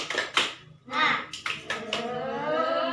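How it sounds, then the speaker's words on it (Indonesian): An elementary classroom does a spirit clapping chant: children shout in unison in short bursts, with hand claps mixed into the loud, rhythmic chanting. "kita tepuk semangat dulu terlebih dahulu ya"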